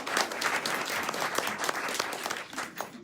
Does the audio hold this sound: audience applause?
yes